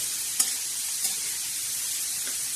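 Onion frying in a pan on the stove with green chilies, a steady soft sizzle with a few light scrapes and taps of a spoon stirring, fairly quiet and without talk.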